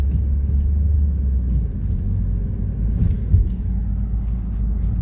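Steady low engine rumble heard from inside a warm parked car on a cold day while a house is built nearby, a continuous droning hum with a faint thump midway.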